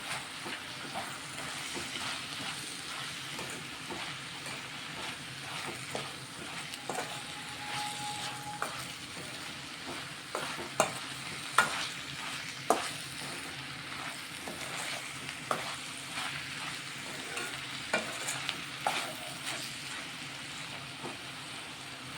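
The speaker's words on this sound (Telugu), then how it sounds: "ఇదంతా ఒకసారి కలిపి వేసుకున్నా" Cabbage and chana dal curry sizzles and fries in a pan while being stirred, a steady low crackle with occasional scraping clicks of the spoon throughout.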